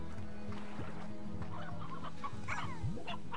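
Chickens clucking in the video game Slime Rancher, a few short, close clucks and squawks rising over a low droning game background, with no talk.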